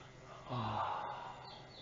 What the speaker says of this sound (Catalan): obrim la boca i fem un badall